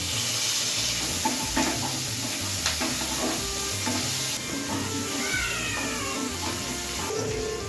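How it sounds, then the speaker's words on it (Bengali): Chopped onion and slit green chili fry in a wok with dried red chili and nigella seeds, a steady sizzle broken by scraping stirs, with faint meow-like squeaks over the crackle. "এবার পেঁয়াজটাকে ভালো করে ভেজে নেব।"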